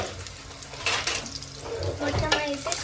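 Chicken biryani ingredients, including cardamom pods, stirred together inside a pressure cooker, giving a steady scraping and sizzling at close range with soft clinks of a utensil against the pot.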